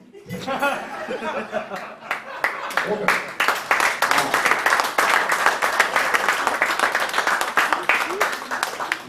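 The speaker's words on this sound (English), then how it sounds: "I'm ending on applause because I already do it" Audience applause at a comedy show fills the room: dense, steady clapping builds after a brief opening and holds loud throughout, with scattered cheers, laughter and crowd chatter mixed in.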